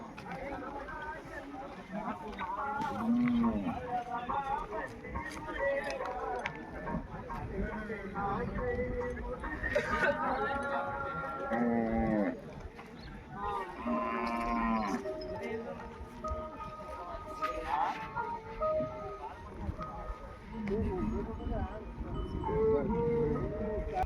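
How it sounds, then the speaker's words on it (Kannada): Cattle and bullocks tied in a row moo repeatedly, several drawn-out calls near and farther off, amid general farmyard bustle and some background voices. "ಏನು ಮುಂದೆ ದನಗಳು ಕಟ್ಟಿಬಿಟ್ರು"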